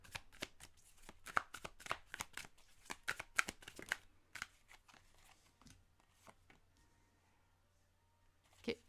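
Tarot cards shuffled and drawn for a five-card reading, with soft close riffles, flicks and taps of the deck in irregular bursts at low level, thinning out toward the end.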